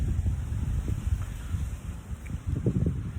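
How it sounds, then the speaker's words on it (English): Strong outdoor wind buffets the microphone in loud, uneven low gusts that rise and fall over a few seconds, with no talking. "Like a very loud wind here."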